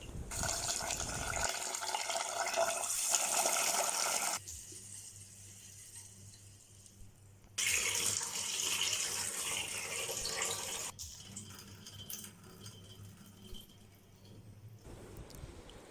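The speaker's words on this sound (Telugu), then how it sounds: "ముందుగా 2 గ్లాసుల బాస్మతి బియ్యాన్ని తీసుకుని కడిగి ఒక అరగంట సేపు పక్కనుంచుకోవాలి." Basmati rice being washed under running water from a tap, a steady rushing and splashing flow that shifts in tone as the pour starts and stops in several sections; no voices.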